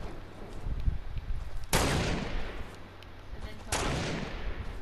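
Two loud, sharp semi-auto sniper rifle shots in Fortnite, about two seconds apart, each ringing with a long decaying echo over faint background game noise.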